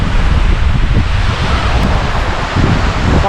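Strong wind gusts steadily at a lakeside camp on Comox Lake, a loud continuous roar with heavy low buffeting against the microphone, no voices.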